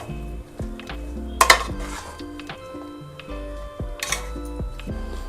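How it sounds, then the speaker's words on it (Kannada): A spoon stirs field beans, greens and spice powder in a pot, giving scattered metallic clinks and scrapes with a couple of sharper knocks against the vessel over quiet sizzling background. "ಎಲ್ಲ ಹಾಕಿ ಈ ರೀತಿ ಮಿಕ್ಸ್ ಮಾಡ್ಕೊಳ್ಳೋಣ"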